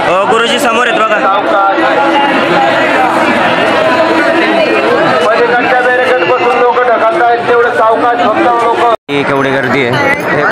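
A dense pilgrim crowd at the Pandharpur Wari, loud continuous babble of many voices close around, with one brief dropout near the end.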